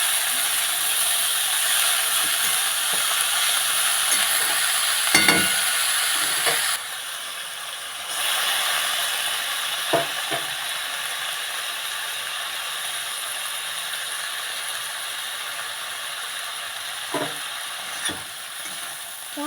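Cabbage with fish head sautéed with spices in a pan, a steady hiss of frying with repeated scraping and clicking strokes of a spatula at irregular intervals, close and continuous, no talking.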